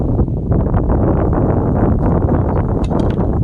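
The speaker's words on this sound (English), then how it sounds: "It's kind of windy today. Very windy." Steady broadband wind rumble buffets the microphone throughout, loud and continuous, with faint rustling on top.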